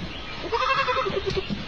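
A goat bleats loudly and close by in one drawn-out, wavering cry, with faint rustling underneath.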